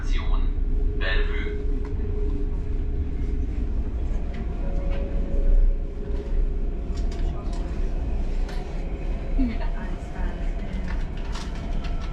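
A Berlin S-Bahn train rumbles steadily along, a low continuous drone with faint squeals and clatter, heard from inside the carriage, with a few brief voices.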